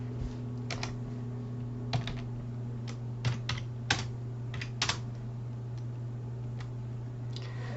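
Fingers type JavaScript code on a computer keyboard: scattered, uneven clicks and a few sharper key strikes over a steady low electrical hum, with no talking.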